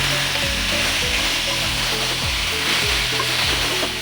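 Steady, loud sizzling of marinated beef frying in hot oil, with repeated scraping clatters of a spatula stirring the pan at a regular pace, no voices.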